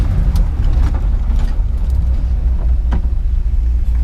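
A BMW E36 M3 track build gives a heavy, steady low engine rumble with road noise throughout, close and constant, with no clear rise or fade.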